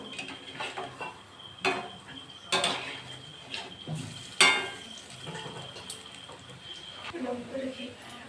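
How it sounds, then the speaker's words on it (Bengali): Palm fruit fritters fry in oil while a utensil scrapes and clinks against the pan as they are turned, bursts of metallic scraping over a low bubbling sizzle. "আমি উল্টো পাল্টে ভালো করে ভেজে নেব।"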